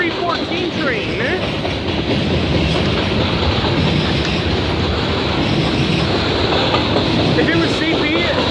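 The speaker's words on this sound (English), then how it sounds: "This has got to be a 314 train" A CP/CN freight train, number 314, rolls past on railway tracks in Foley, Ontario, a loud, close, continuous rumble and clatter of wheels over rail joints lasting throughout, with a voice talking over it.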